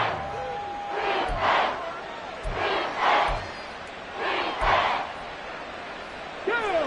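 A packed football stadium crowd at a Patriots versus Dolphins game roars and cheers at fever pitch, a loud sustained wall of voices that swells in waves, with faint announcer commentary running beneath it.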